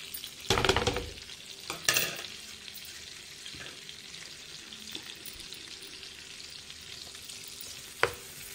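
Onions fry in hot butter for matar paneer, a loud crackling burst as they hit the pan, then a quieter steady sizzle with occasional spoon clinks and a sharp knock near the end; no speech.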